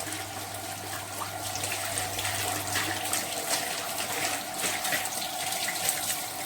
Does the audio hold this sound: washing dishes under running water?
yes